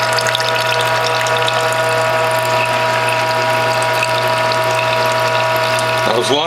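WHF juicer grinding apple, turmeric and ginger through a front-loading feed tube, giving a steady loud ratcheting mechanical drone with a low hum and a faint watery trickle, ending in a brief shift near the end.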